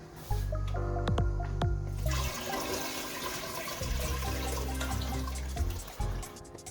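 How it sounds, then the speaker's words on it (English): Liquid splashes and trickles as it is poured through a filter, with a gurgling low rush that starts, pauses briefly, then resumes before tapering off; a few clinks mark the start. "now I'm going to pour it again to filter it"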